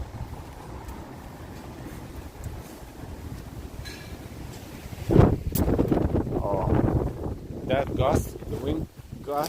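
A strong gust of nor'easter wind sweeps a Brooklyn street and buffets the microphone in a loud roaring burst midway through, over a constant low rush of storm noise.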